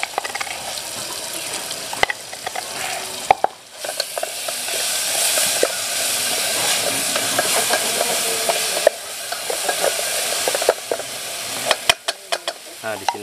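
Pounded spice paste hits a hot pan for a yellow-broth dish of small river fish, shrimp and catfish, sizzling and hissing steadily and loudly with stirring scrapes and clicks on top.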